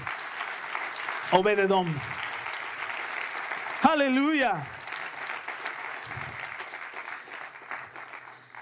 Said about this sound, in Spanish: Denle un aplauso al Señor por este hombre.